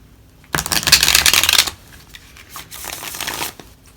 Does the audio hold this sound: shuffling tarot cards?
yes